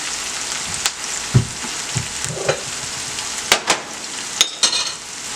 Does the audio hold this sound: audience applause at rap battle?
no